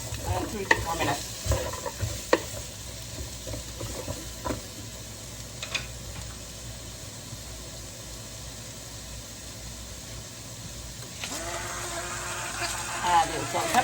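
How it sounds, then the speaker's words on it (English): A medium to large onion fries in a Ninja Speedi, giving a soft continuous sizzle with several sharp scrapes and knocks of stirring early on and a louder burst near the end. "We're going to pop in a medium to large onion. Around. And we're going to cook this off till it gets translucent"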